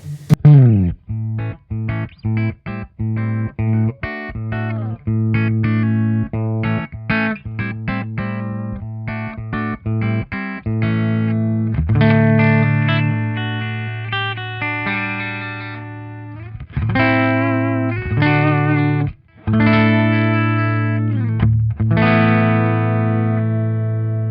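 Electric guitar played through a Marshall JCM2000 DSL100 amp on the clean channel, picked notes and strummed chords ringing out clearly with a bright, undistorted tone, no voices.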